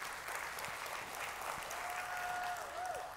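Church audience applauding the worship team leader Bryce, a steady wash of clapping throughout, with a faint whistle-like tone near the end.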